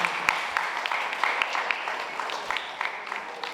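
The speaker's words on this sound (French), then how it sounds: "Un tonnerre d'applaudissements pour Madame Fall" An audience at a constitution ceremony in Guinea breaks into sustained applause for Madame Fall, with dense overlapping claps that stay fairly even for a few seconds.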